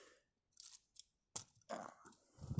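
Face plate pried off a Transformers Studio Series 49 Deluxe Bumblebee action figure: quiet, close plastic clicks, snaps and short scrapes in a few separate bursts with silence between.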